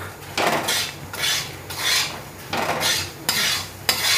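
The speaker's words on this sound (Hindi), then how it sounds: "पाँच से सात मिनट तक इसको धीमा तामे में हम चला चला करके इसी तरह चला" Semolina is roasted on low heat in a pan for barfi and stirred continuously. A spoon scrapes the pan in steady repeated sweeps, each one rasping about every three-quarters of a second, close and clear with no voices.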